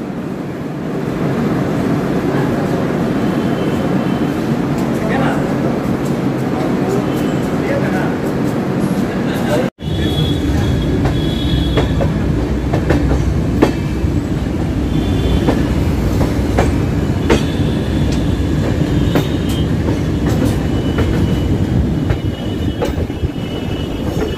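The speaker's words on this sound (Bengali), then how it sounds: "আমাদের ট্রেন এখন বারাণসী জংশন ঢুকলো" The Howrah–Amritsar Mail rolls into Varanasi Junction with a steady, loud rumble and clickety-clack of wheels, faint squeals and a brief dip near the middle, while voices carry on in the background.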